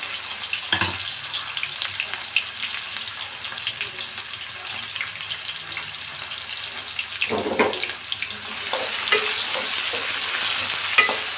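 Onions are added to crackled spices in a pot for masoor pulao and stirred as they fry, giving a steady close sizzle with scraping stir strokes and a few louder clatters.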